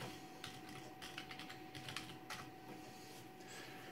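Keys tapped on a computer keyboard while entering a sudo password in a terminal, a quick irregular run of soft clicks in bursts over a steady faint background hum.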